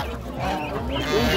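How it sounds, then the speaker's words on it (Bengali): Geese honk at a busy poultry market in Krishnanagar, a few nasal calls rising over the crowd's murmur and nearby chatter within a short moment. "এখানে সব দাদা রাজহাঁস আর এলো রাজহাঁসের বাচ্চাই বোধ হয় নিয়ে আসছে।"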